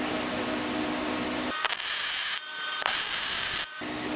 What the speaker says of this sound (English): I'm going to hit the center plug weld